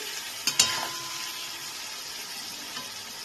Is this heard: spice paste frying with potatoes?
yes